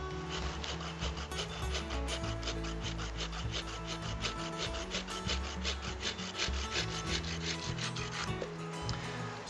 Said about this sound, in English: To do that, I'm going to use my pruning saw.